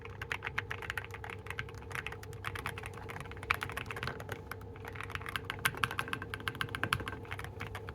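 Typing on an assembled KPrepublic BM40 40% ortholinear mechanical keyboard, a steady run of close, soft, dampened keystroke clicks at an even pace with a few louder taps, heard alone.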